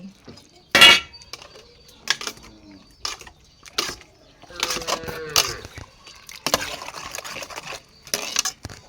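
Food scooped into an old bowl at home while preparing a Lao-style dish with fish, vegetables and roasted rice; scattered light clinks and scrapes of dishes and utensils come in short bursts, close by, with a voice speaking in between.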